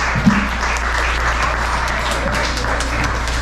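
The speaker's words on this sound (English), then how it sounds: "Round of applause for Chris Whiteside as Scarf Lover." Steady applause from an audience at a bizarre award ceremony honoring Scarf Lover, dense continuous clapping filling the room at close range and holding an even level throughout.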